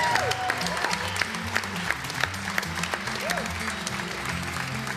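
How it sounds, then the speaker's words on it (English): A crowd at a live music show claps in sustained applause, a steady wash of many hands with faint voices and a few whoops mixed in. "Give them a big round of applause."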